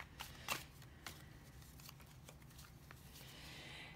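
Tarot cards shuffled by hand give a few soft riffling bursts and taps, faint and close, in a quiet room without speech.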